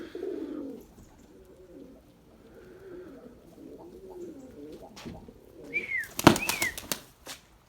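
Pigeons flying in to land during a rainy-day flying session, with soft cooing near the start, then a sudden close burst of loud wing flapping and clattering as the birds arrive.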